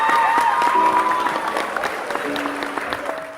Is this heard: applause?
yes